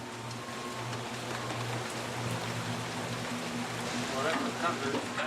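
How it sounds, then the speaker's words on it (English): Heavy rain pours steadily on a river boat, a dense continuous hiss of downpour with a low engine hum beneath, close and unbroken throughout. "The curtain of rain reduces visibility"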